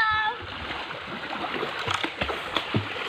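People swimming in a river splash and churn the water in irregular bursts, with faint voices now and then under the running water.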